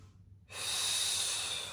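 A long, steady inhalation during a yoga crescent lunge starts after a brief quiet moment and holds as a broad, breathy hiss close to the mic.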